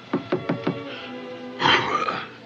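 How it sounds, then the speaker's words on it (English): Four sharp knocks on a wooden door in a radio drama, spaced evenly in a quick run, followed by a short burst of other sound; clear and close. "You better go see who's knocking on our door."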